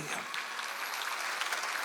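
A congregation at a Sunday church service claps briefly, giving a short burst of even, moderately loud clapping.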